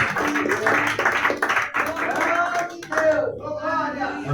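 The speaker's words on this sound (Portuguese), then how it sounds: "Aplauda mais uma vez o nome do Senhor, Jesus." Congregation clapping at a Portuguese-language worship service, rhythmic hand claps at moderate loudness under a singing or speaking voice that carries over them.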